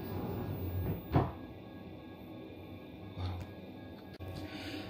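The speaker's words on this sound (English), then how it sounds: "after some time this door closes" An automatic washroom door on a new Tanzanian electric EMU train shuts with a single soft thump and a short slide, set against the steady low rumble of the moving carriage.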